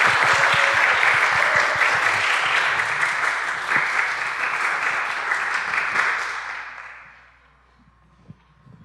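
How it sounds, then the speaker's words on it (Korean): A church congregation claps loudly and steadily for a newly baptized member, the dense applause holding for about six seconds before trailing off into near silence. "우리 크게 박수로 축복해 주시기 바랍니다"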